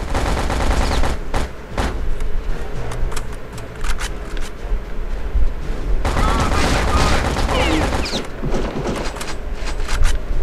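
Rapid bursts of gunfire in Return to Castle Wolfenstein, loud and close, with clusters of sharp shots and automatic fire separated by brief pauses.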